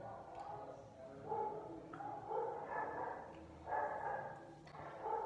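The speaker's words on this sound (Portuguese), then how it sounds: "Olha os cachorros." Several dogs bark in the distance, with repeated mid-pitched barks and yips coming in uneven bursts over a quiet domestic room tone.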